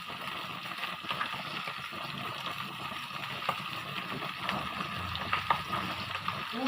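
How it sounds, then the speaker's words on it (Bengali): Fish pieces coated in spices fry in oil for a tomato curry, giving a steady close crackling sizzle with small irregular pops throughout and no voices. "এই যে এই তেলে পরিমাণ মতো তেলে রান্না করবো"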